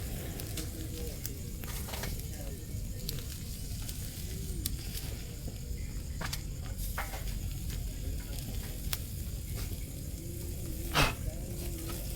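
Food grilling over an open fire beside Bakas River in Norzagaray, Bulacan, giving a continuous crackling sizzle with scattered pops and snaps, steady and close throughout.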